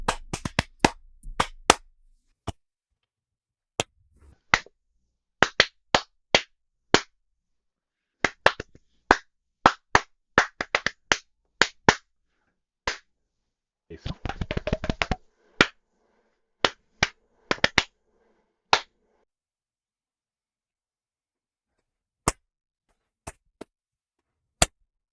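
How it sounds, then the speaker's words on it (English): Sharp hand claps made to sync audio at the start of a podcast recording, struck singly and in quick runs, some clustered and some spaced several seconds apart, close and crisp against silence. "Clap, clap, clap, clap your hands."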